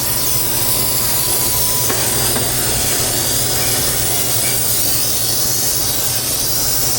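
Compressed air blasting through the axle parts of a Ford 2.7 EcoBoost with a blown axle seal gives a loud, continuous rushing hiss that stays steady and close throughout, with no talking.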